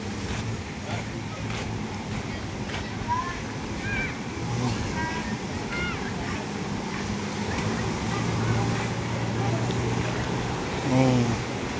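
Ocean surf washes steadily onto Pantai Sundak beach in Gunung Kidul, a broad continuous roar with wind buffeting the microphone, while people talk faintly nearby throughout.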